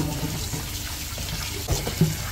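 Meat is rinsed under running tap water after a lime and vinegar wash: a soft, steady faucet flow with a couple of dull thumps near the end.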